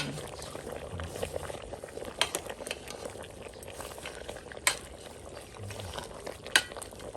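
A pot of Thai free-range chicken stew with kaffir lime leaves, spring onion and holy basil bubbles steadily while being stirred, with a few sharp utensil clinks against the pot.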